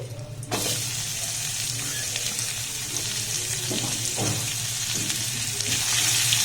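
Sliced onion and whole cumin sizzle steadily in hot oil, a dense continuous hiss with occasional small pops, close and fairly loud, starting abruptly after a brief quiet moment and carrying on alone.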